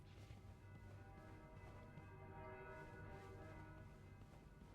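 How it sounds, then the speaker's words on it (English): Church bells ring outside in the game This Bed We Made, a steady faint wash of overlapping tolls held under constant background hiss, with no talk. "Hear bells outside."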